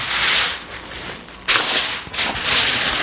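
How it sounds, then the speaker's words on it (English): Heavy-duty aluminum foil crinkles and rustles loudly as it is folded around a rack of baby back ribs, a steady crackling with a sharper burst midway, close and alone. "Now I'm going to use heavy-duty aluminum foil. And we want to wrap these a second time."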